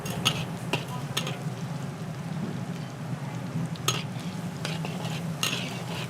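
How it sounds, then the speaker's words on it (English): Three or four heads of garlic are stirred and fried on low heat in a wok for a Thai massaman curry in Krabi. A steady soft sizzle is broken by repeated scraping, clinking stirs. "Frying it, caramelizing it, browning it to bring out the full flavor of that garlic."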